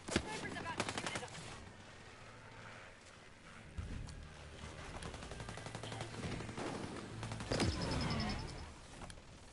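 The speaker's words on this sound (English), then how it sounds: "Laying down fire." Gunfire in Ghost Recon Breakpoint, with rapid automatic bursts and scattered single shots, moderately close and loud, amid shifting combat noise and heavy thuds.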